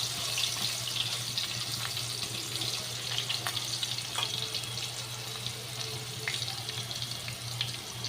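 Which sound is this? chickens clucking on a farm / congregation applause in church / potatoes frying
potatoes frying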